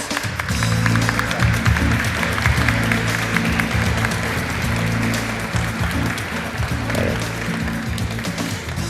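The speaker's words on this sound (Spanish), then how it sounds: "muchas gracias por el aplauso" An audience at a science conference applauds steadily, with dense clapping that holds at a strong level throughout, with some voices mixed in.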